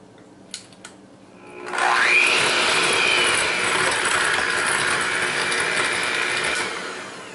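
Dry pumpkin pie ingredients, ground cloves and cinnamon, being mixed quickly: after a couple of faint clicks, a loud, steady whirring rush starts and holds for several seconds before easing off.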